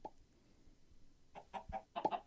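Minecraft chickens cluck in the StoneBlock 2 modpack, a few short, quiet clucks coming in bursts toward the end, mostly alone over a faint background.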